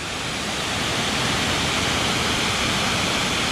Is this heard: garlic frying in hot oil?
no